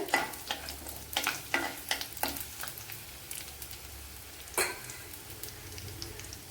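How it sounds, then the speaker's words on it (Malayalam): Fenugreek seeds fry and sizzle in hot oil, a soft steady crackle with scattered sharper pops and a few stirring scrapes, close by and fairly quiet with no talk. "ഉലുവ നല്ല മൂത്തതിന് ശേഷമാണ് ഇട്ട് കൊടുത്തത്."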